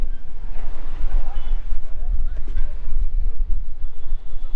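Strong wind buffets the microphone aboard a river ferry, a loud, continuous low roar with gusty surges, while someone talks over it.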